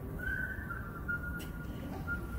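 A person whistling a short, faint melodic phrase outdoors over steady background noise, with no talking.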